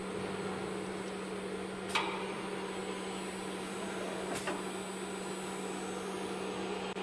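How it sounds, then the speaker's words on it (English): A 4-axis machining center for aluminium curtain wall facade profiles hums steadily while milling, with a constant drone and two brief sharp ticks, fairly quiet and without speech. "It rotated to this 0 degree, and then start milling."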